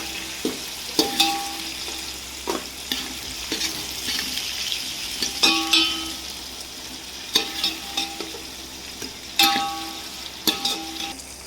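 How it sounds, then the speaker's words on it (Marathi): Chopped onion sizzles softly in a pan for upma while a spoon stirs and scrapes against the metal in irregular bursts, with occasional louder clinks. "कांदा आपण छान परतून घेऊयात."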